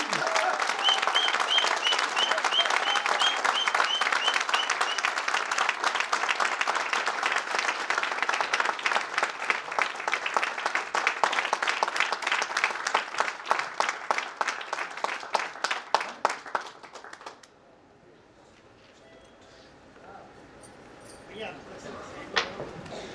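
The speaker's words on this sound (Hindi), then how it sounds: "तालियां ये वाली" A crowd at a Safedeal Spark company event applauds as leader Parmanand Prajapati is welcomed. Loud, dense clapping settles into rhythmic unison claps for about seventeen seconds, then cuts off abruptly, leaving quieter room sound.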